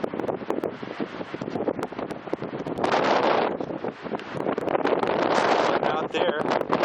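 Stiff breeze at Sun Point View buffeting the microphone in loud gusty roars, surging strongly from midway on, with faint rustling and brief speech mixed in.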